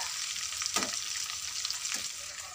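Sariaya longganisa sausages frying in a pan with a bright, continuous sizzle and crackle, plus two brief scraping clatters from turning them, close up with no talking.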